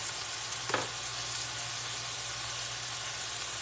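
Turkey burgers fry in a little vegetable oil with a steady, close sizzle and crackle that runs unbroken throughout, with no voices.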